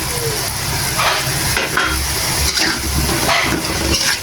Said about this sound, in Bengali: আমি একটু টমেটো ঢেলে দিলাম